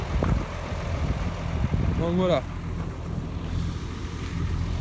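A tractor engine drones steadily nearby in a ploughed field under heavy wind buffeting the microphone, a continuous low rumble while someone speaks briefly.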